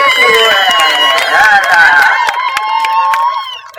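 Wedding guests at a Hilton reception hall clap, cheer and ululate loudly together for the bride and groom, a dense festive roar with high trilling voices that fades toward the end.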